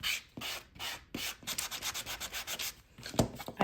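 Sanding a glued-down piece in a holiday craft project: repeated rasping strokes in an uneven rhythm, close and fairly faint, with short pauses between passes and no talking.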